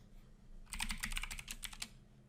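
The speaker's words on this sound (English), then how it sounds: "so I'm just typing that in MathCAD" Rapid, close keystrokes on a computer keyboard as numbers are typed into MathCAD software, a burst of clicks lasting just over a second.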